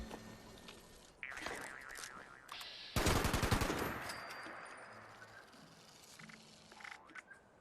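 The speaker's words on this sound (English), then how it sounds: "Stop shooting me!" Gunfire aimed at the player in Fallout 76 erupts as a sharp, rattling burst of rapid shots, loud and close, then fades into quieter game sounds and faint tones.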